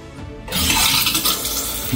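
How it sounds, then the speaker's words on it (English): Water gushes from a wide-open faucet upstairs in a house during a pressure tank replacement, a steady broadband rush that begins abruptly after a brief quieter moment and stays loud and close. "Faucet open upstairs."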